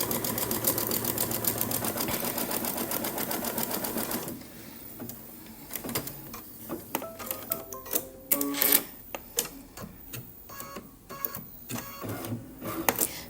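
An embroidery machine runs with a fast, steady rattling stitch while tacking down batting for a small quilted pillow keyring, then slows into irregular clicks and thumps of the mechanism nearby.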